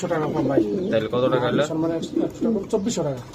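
Breeding pigeons with eggs coo at a pigeon seller's stall, their soft repeated coos mixed under ongoing close conversation.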